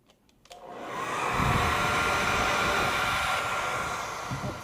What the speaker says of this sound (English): I don't have one of those heaters, I'm just using my blow dryer.